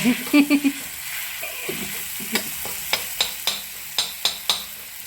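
Cluster beans fry in a little oil in a village-style home kitchen, giving a steady soft sizzle under a run of sharp utensil clinks and scrapes as they are stirred. No voices are heard.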